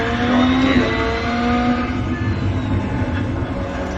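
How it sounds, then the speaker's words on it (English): Rally car engine in a rallycross racing video game, revving steadily under throttle with a droning, slightly shifting pitch as it works up through the gears, loud and continuous for several seconds. "While I'm pumping that gas, I'm just trying to rev the engine up, going to gear."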